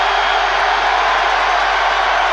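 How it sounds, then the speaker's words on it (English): Stadium crowd at a Bangladesh versus Ireland cricket match roaring steadily after a big hit into the stands, a dense, continuous wall of cheering that stays loud and even throughout. "The crowd has gone mad."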